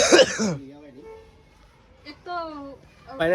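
A single short, harsh cough or throat clear opens the clip, followed by a person speaking softly nearby.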